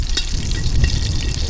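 Garlic hitting a hot curry pot for a Trinidad cascadoo cookup, a steady close sizzle and frying hiss that holds evenly throughout, with faint stirring scrapes and no voices.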